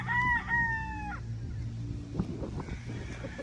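Three bull stag roosters of the street comb type crow. One clear cock-a-doodle-doo rings out near at the start, followed by softer clucks and farmyard rustling.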